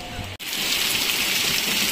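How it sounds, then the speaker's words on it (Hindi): Heavy rain pours down during a storm that flooded the road, a dense, loud, steady hiss of water that continues without pause after a brief break at the start. "इतना बारिश हुआ कि रोड पे ही बाढ़ आ गया"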